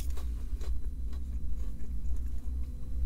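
Crispy McDonald's chicken nuggets are bitten and chewed close to the mic, with crunchy bites and soft mastication noises over a low background rumble and no talking.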